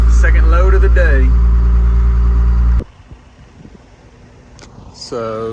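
A dirt-hauling truck in West Texas idles loudly with a deep, steady engine drone while a voice talks over it, then the engine cuts off abruptly, leaving quiet rustling before talking resumes.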